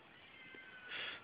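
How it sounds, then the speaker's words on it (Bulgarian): A cat meows once, faint and close, a drawn-out mewl rising toward the end of a short, quiet moment in a garden. "Ето една от многото им котки,"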